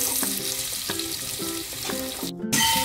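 Curry leaves frying in hot oil in a pan, a close, continuous crackling sizzle with regular pulses of stirring, briefly cutting out near the end before resuming.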